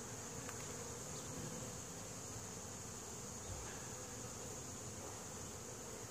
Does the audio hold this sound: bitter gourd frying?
no